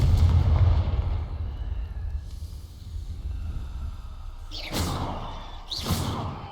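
In the Hogwarts Legacy video game, Confringo blasting spells go off as a heavy low rumble at the start. Two sharp explosive bursts follow near the end, loud and close, with no speech.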